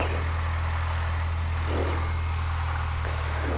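A light aircraft piston engine idles at about 1200 RPM right after start-up, giving a loud, steady propeller drone with no break for the whole stretch.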